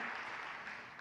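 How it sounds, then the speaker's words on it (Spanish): Applause from a church congregation during a sermon, a dense steady wash of many hands clapping together at moderate level for a brief moment. "denle el aplauso al Señor"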